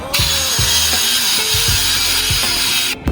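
A power drill fitted with a polishing attachment buffs compound onto a car's paint, a steady close whirring hiss with soft rhythmic thumps as the pad presses and lifts against the panel, cutting off just before the end.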